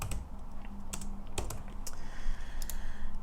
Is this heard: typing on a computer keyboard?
yes